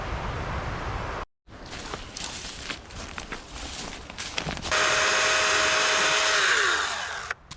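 A quiet electric chainsaw cuts through wood outdoors in a forest, a steady whining buzz that rises to a sustained loud cutting drone partway through, with rustling and handling noises before it.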